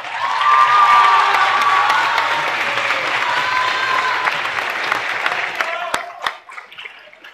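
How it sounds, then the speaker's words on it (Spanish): Loud audience applause with cheering and shouts at a youth speaking contest awards announcement, a dense wash of clapping that swells early then gradually thins to scattered claps and fades out. "Fuerte el aplauso para su compañero, por favor"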